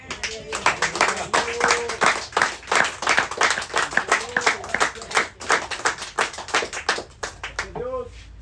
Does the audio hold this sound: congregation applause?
yes